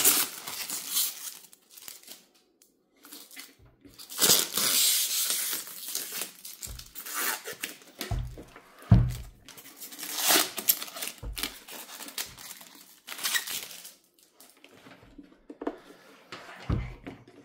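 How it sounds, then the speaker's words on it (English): Protective plastic wrapping on a charcoal Yeti Roadie 15 cooler crinkles and rustles as it is pulled off, in irregular bursts with short quiet gaps and a few soft thuds, close by. "It's got this protective plastic around the top"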